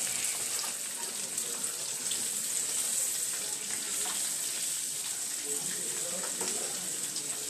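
Pork chops sizzle and crackle in a hot frying pan, a steady close hiss with small pops and no talking.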